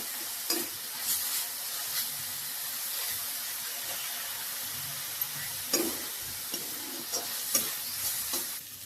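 Ground onion-tomato paste sautéing in a pan for a dhaba-style methi masala, stirred steadily with a soft continuous sizzle and hiss and occasional scraping clinks of the spoon, heard close with no talking.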